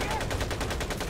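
Rapid automatic gunfire from Medal of Honor: Pacific Assault, a dense, steady string of close, loud shots at a fast rhythm throughout, with faint game background beneath.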